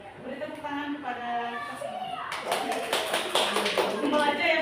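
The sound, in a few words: clapping in online teacher forum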